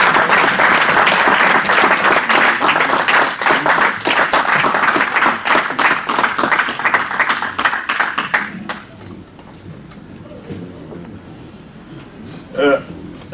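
A political gathering audience of the Union pour la Nation Congolaise applauds for about eight seconds in loud, dense clapping that thins into scattered claps, followed by quieter room noise and a brief voice.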